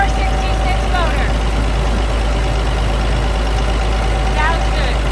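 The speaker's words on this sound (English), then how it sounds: "Here's that DT466 motor." A 1999 International 4700 truck's DT466 diesel engine idles with a loud, steady low rumble that holds even throughout, while brief chirps and bird-like whistles sound faintly over it.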